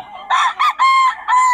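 A rooster crows nearby, loud and clear, in a few drawn-out bursts with short gaps between them and no talking.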